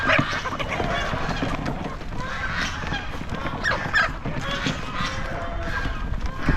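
A mixed flock of chickens on a farm clucking and squawking continuously and fairly close, with voices talking over the birds throughout.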